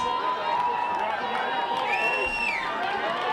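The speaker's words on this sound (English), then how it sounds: "As the crowd gets loud here at Jerome T. Osborne Stadium" A crowd roars steadily at Jerome T. Osborne Stadium during a high school football playoff game, a dense, loud wash of voices and cheering that holds throughout with talk mixed in.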